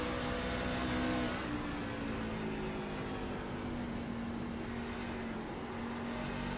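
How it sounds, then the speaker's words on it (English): Race truck tires sliding on corner entry at a short oval, heard from an in-car camera as a steady engine drone with a sustained tonal whine and broadband tire roar, loud and continuous throughout. "Oh, you really hear the tires slide here on the in-car shot for Chad there on entry into 3"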